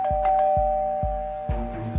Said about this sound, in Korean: 스미스 씨는 전기가 나갔고 초인종이 울리는 것을 들었다고 했어요.